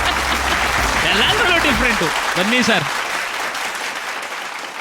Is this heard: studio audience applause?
yes